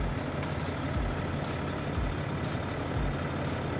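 A Land Rover Discovery 4 engine idles after starting, with a steady low diesel-like rumble and a faint repeating ticking chatter, moderately loud and close, with no talking over it.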